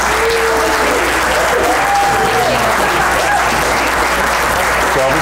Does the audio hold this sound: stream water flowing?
no